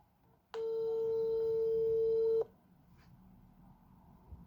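A WhatsApp outgoing call rings once, a single loud steady electronic tone lasting about two seconds that cuts off abruptly, followed by quiet room noise.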